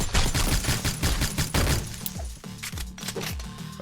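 A submachine gun fires in a video game in rapid, loud bursts of dense shots, trailing off into scattered impacts and breaking sounds.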